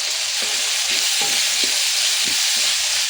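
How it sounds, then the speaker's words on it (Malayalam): Onions and tomatoes with salt, turmeric, black pepper and chili powder sauté in hot coconut oil for kothu parotta, a loud, unbroken sizzle with several soft spatula stirs scraping through it. "നന്നായി ഒന്ന് വഴറ്റിയെടുക്കാം"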